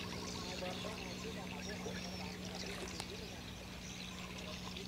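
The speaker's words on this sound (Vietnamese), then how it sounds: "tiếng động cơ thì nghe khá là hì hòm" A container ship's engine drones steadily and evenly throughout, with a constant low hum beneath a wash of water and wind noise.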